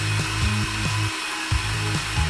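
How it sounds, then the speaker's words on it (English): A small electric motor drives the gears of a handmade cardboard elevator, giving a steady close whir with a low rumbling hum that pulses and cuts out briefly several times, with no one speaking. "The motor starts running and the gears spin, setting the elevator in motion."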